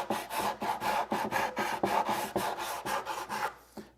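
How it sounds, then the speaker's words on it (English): A sanding block rasps back and forth across wooden Shaker bench boards in quick, even strokes, about a dozen close scrubbing passes in a row before stopping. "And then I also like to hold the sanding block at an angle"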